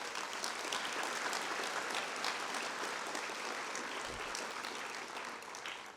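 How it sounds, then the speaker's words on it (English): Steady, fairly distant applause from a large crowd at a retirement ceremony honoring long-serving retirees, continuous dense clapping that tapers off slightly near the end. "Give yourselves a round of applause."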